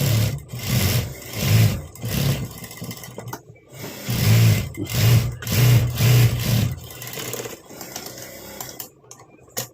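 A sewing machine stitches lace onto a blouse in a steady motorised whir, running in several close, loud bursts with brief pauses between them and falling quiet near the end.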